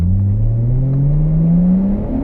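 Nissan Skyline engine at a drift event, a loud close rising rev as the car pulls away, engine note climbing steadily over two seconds with no talk.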